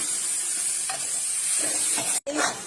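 Black cumin and spice powders dropped into a hot oil pan for potol dhoka, giving a continuous bright sizzle with a few stirring scrapes, close and fairly loud, briefly cut off near the end.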